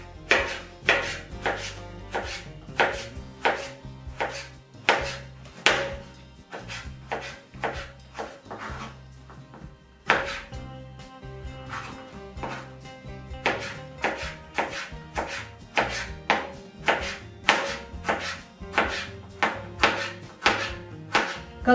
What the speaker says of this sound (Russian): Огурчики. Сначала я вот так вот их разрежу.